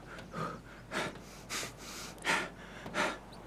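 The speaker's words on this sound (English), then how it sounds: "I love the breathing." A character in Escape from Tarkov breathes heavily, a series of close, loud gasping inhales and exhales repeating in an uneven rhythm about every half second.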